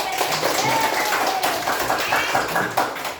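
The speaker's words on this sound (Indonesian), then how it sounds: "tepuk tangan untuk Vicky ya" Classroom pupils clap for a student named Vicky during an Islamic studies lesson, a brief patter of claps mixed with taps, somewhat sparse and close, with a little background voice underneath.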